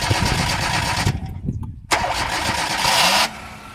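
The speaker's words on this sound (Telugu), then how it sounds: "ఇప్పుడు ఇంజన్ స్టార్ట్ చేస్తాను" A 2009 Hyundai Verna with a 1.2 litre petrol engine briefly cuts out, then cranks and fires up close by, settling into a steady idle.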